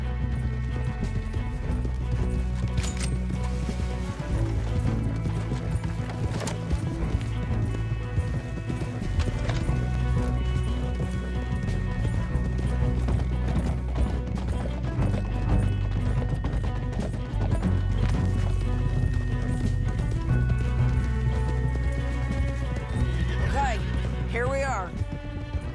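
Horses galloping and neighing in Red Dead Redemption 2 at Beaver Hollow, steady hoofbeats under a dense bed of music and action effects, with voices talking throughout.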